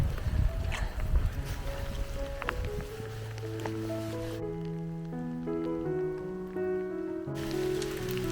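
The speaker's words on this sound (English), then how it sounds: "And it's really raining now. Not just drizzle, it's proper rain now." Heavy rain falls outdoors along the West Highland Way between Milngavie and Drymen, a steady hiss of drops with some wind noise that is soon partly covered by music.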